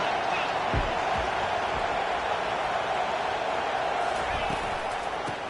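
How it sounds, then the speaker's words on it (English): Football stadium crowd roaring on third down at a Tennessee versus Miami game, a steady, loud wall of cheering and noise that holds throughout, with scattered thumps and shouts inside the din. "Decibels rising as the crowd gets behind this defense on 3rd down."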